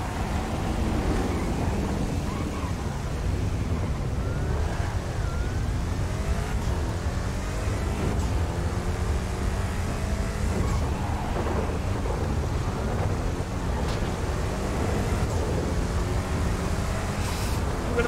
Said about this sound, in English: It's a shame you can't really hear the cars as much because of the thunder